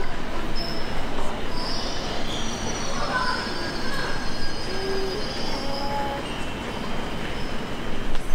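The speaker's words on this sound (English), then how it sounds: "So this is the train where it is the first train" A London train running steadily throughout, with continuous rumbling wheel and rail noise and faint squealing, heard from inside the carriage at a constant, fairly loud level.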